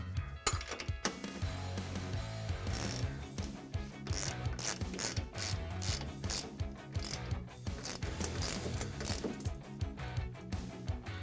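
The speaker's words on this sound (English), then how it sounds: "Now I'll put the washer and the factory nut back on this bolt. And we'll use that 17mm socket to tighten it up again." A ratchet with a 17mm socket tightens a factory nut on a Tacoma shock bolt, giving loud, rapid clicking pawl bursts in repeated strokes with brief pauses, close up and alone.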